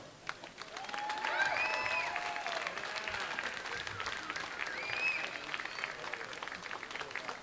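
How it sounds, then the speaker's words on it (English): An audience at a memorial awards gala for a cancer fund bursts into sustained applause, steady dense clapping with a few whoops rising above, holding at an even level throughout. "Give it a big applause for these guys."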